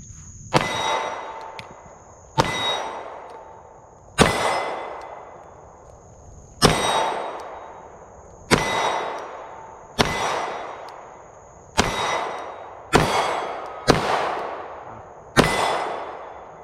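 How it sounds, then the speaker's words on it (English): Ten sharp Glock 48 MOS pistol shots ring out at an outdoor range, each a loud close crack followed by a ringing decay, fired at irregular intervals roughly one to two seconds apart, with a faint steady tone in the background. "But I'm really looking forward to shooting this"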